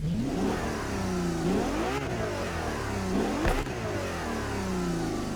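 A car engine in the racing game The Crew Motorfest revs hard and continuously, its pitch climbing and dropping in repeated sweeps as gears change, loud and close with no talking.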